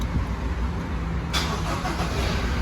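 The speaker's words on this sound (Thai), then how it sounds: "เครื่องยนต์จะสตาร์ทติดนะครับ" A Toyota Revo pickup's engine starts with a smart-key push button, a short crank catching into a steady, close idle rumble with no talk.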